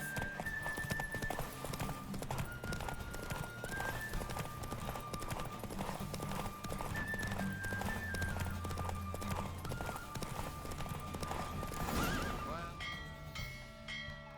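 A horse gallops in a race in the video game The Witcher 3, with rapid clip-clop hoofbeats and occasional neighs running steadily throughout over tonal game music.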